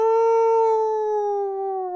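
A single sustained wolf howl, loud and close, holding a steady pitch before sliding slightly downward as it tapers, heard alone with no talk.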